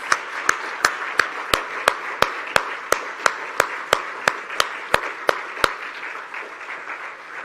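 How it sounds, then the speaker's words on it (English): A single steady clapping pattern at a formal event after a performance, evenly spaced sharp claps at a regular rhythm that fade out toward the end. "Can we stand up and give them a round of applause, ladies and gentlemen"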